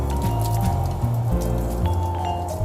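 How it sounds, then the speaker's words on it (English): Water sprays from a Waterport tank mounted on a 2017 Ford F450 truck, a steady hissing spray with wet splattering over a low pump hum, close and continuous. "spraying out beyond the length of my truck here."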